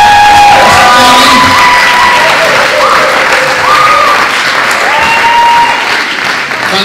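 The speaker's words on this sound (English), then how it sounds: "Let's give him a big cheer." A church crowd bursts into loud, sustained applause and cheering, with whoops and shouted voices rising over dense clapping throughout.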